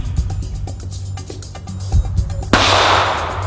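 A single sharp gunshot from a firearm cracks out loudly at close range over a steady outdoor background, followed by a broad lingering noise burst.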